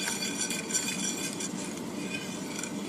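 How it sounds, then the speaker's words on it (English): A spoon stirring shredded cheese into a pot of low carb cheesy tuna zoodle casserole, soft steady scraping and faint clinks against the pot, quiet and continuous with no talking. "So just keep stirring slowly until it all melts in."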